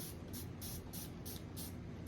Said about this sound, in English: So I like to spray it with water.